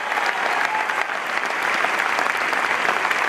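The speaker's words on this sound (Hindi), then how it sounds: "आपकी डायमेंशन के लिए तालियां बजाइए।" An audience at an Amway Diamond celebration event applauds loudly and continuously, the clapping filling the hall throughout.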